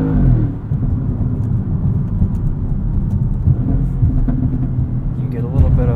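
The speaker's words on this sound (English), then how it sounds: "you get a little bit of overrun" A 2016 Audi S7 in dynamic mode gives a low, steady engine rumble with faint overrun burbles, heard from inside the cabin under continuous road noise.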